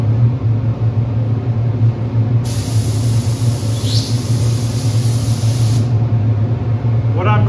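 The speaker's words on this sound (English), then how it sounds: "Okay, let's get the first coat of primer on." Spray gun applying a first coat of two-part primer to the sides and interior of a Tapper arcade cabinet, a steady loud hiss starting partway in and running about three seconds over a constant low compressor-like rumble.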